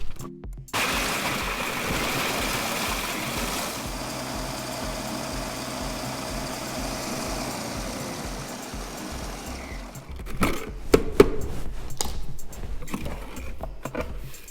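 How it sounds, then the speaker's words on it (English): A food processor breaking a pack of biscuits into fine crumbs for a New York cheesecake base: a loud, steady motor whir runs for about nine seconds, then stops, followed by a few clunks and rattles. "break up a pack of biscuits into a food processor"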